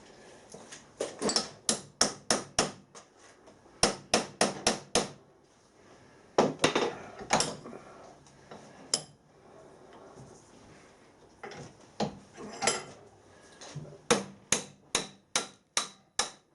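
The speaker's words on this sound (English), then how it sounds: "then we'll have a bit hammer about with it so we can get it to move." Sharp metallic hammer blows ring out in rapid bursts of strikes on a vintage traction engine, separated by pauses and a few isolated single hits.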